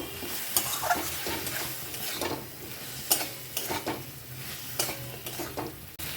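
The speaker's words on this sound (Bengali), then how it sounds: "এবারে আলু আর বেগুনের সঙ্গে মশলাটা কষিয়ে নেব" Potato and eggplant being stir-fried with spice paste in oil, for a Bengali bata fish curry, with a steady background sizzle broken by repeated scraping clinks of a spatula against the pan.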